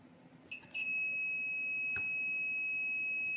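A multimeter gives a continuity-test beep while probing a desktop motherboard: a brief start at first, then a steady, loud, unbroken tone held to the end, with no talk.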